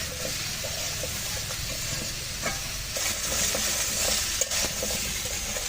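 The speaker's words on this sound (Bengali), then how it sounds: "সব তরকারি দিয়ে আবার একটু ভালো করে ভেজে নেব" Vegetables, potato and ridge gourd with a pinch of turmeric, fry for a crab curry with a loud, steady hissing sizzle and light rhythmic stirring scrapes, close up and without talk.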